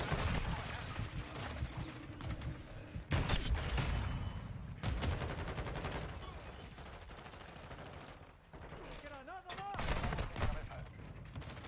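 Bursts of video game gunfire, including rapid automatic volleys and single shots, crackle repeatedly at moderate volume under someone talking throughout.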